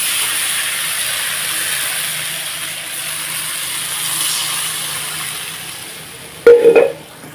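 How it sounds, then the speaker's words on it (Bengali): A pan of potato and paneer curry sizzles with a steady hiss, then water poured in sets off a sudden loud, bubbling burst of sizzle near the end. "আর একটু ভালোভাবে কষিয়ে নিয়ে এখন আমি এতে জল দিয়ে দেবো"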